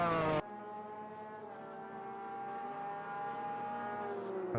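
McLaren GT1 race car engine in the racing game Automobilista 2, a sustained harmonic drone that climbs slowly in pitch, heard alone without talk after a brief louder burst at the start.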